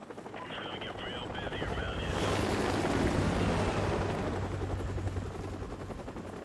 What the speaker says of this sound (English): Chopper's back.